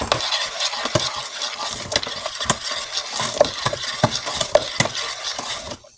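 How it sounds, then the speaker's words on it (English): Sugar being mixed into mashed bananas in a bowl for banana bread, a close run of quick scraping and clinking utensil strokes against the bowl that stops abruptly at the end. "Got 3/4 cups sugar, and that's going to be in the bananas. Mix that in here."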